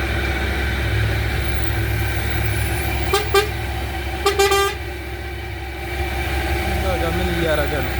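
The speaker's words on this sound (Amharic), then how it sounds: "ለሱ እኮ ነው ክላክስ የሚያደርግለት።" Two short bursts of a vehicle horn honk on a busy evening street in Piassa, Addis Ababa, rising above a steady rumble of traffic.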